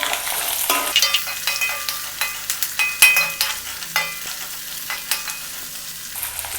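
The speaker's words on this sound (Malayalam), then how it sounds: "ഒന്ന് എണ്ണയ്ക്കകത്തിട്ടൊന്ന് വാടി വരുമ്പോഴത്തേക്ക് നമ്മൾ അരിഞ്ഞു വെച്ചിരുന്ന സവാള" Chopped onions fry in hot oil for a Kerala egg and potato mappas curry, a soft steady sizzle broken by repeated close scraping strokes of a spoon stirring the pan.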